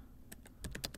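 A short burst of computer keyboard typing at home, a few separate key taps then a quicker cluster of clicks, close and clear with no speech.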